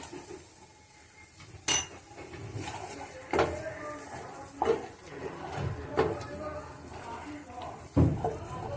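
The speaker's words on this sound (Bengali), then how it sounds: "চিনিটা দিয়ে একটু ভালো করে নেড়ে নেব।" A spoon stirs prawn curry masala with yogurt, coconut and a spoonful of sugar in a pan, making intermittent metallic clinks and scrapes while a person talks.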